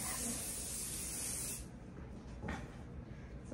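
Hairspray hisses in a steady, close spray onto a show poodle's coat for about a second and a half, then stops, leaving faint rustling afterward.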